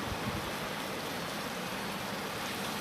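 Chicken pieces sauté in hot oil with garlic paste in a pan, giving off a constant dense sizzling hiss that stays even and close throughout.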